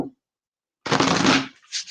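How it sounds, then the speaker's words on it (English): Tarot deck being shuffled close by, a dense riffling burst of about half a second to a second after a brief silence, followed by a short softer flutter of cards. "Just a couple more shuffles here."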